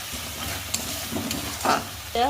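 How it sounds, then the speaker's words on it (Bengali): Fish frying in a pan with turmeric keeps up a close, steady sizzle with intermittent spatula scrapes and a few sharper crackles, and no voices over it. "দেখো ফ্রাই করছি নিহেরে মাছের"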